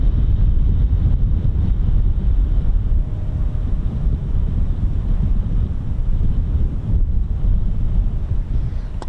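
Steady, strong wind buffets the microphone without pause, a dense low roar like gusts out in an open, exposed spot, with no voices heard.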